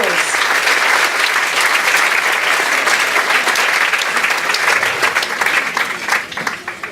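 Sustained loud applause from an audience honouring a chair of trustees stepping down after twelve years, steady clapping throughout that thins slightly toward the end.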